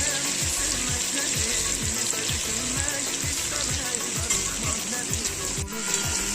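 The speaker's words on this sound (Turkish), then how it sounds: "Soğanımız da kavruldu" Onions sauté in a pan with a steady close sizzle and a rhythmic scraping pulse from stirring, frying evenly and loudly throughout.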